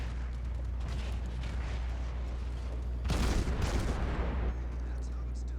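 Warship guns firing in the World of Warships naval battle game, a loud booming salvo that swells after a rumbling background and fades over about a second and a half.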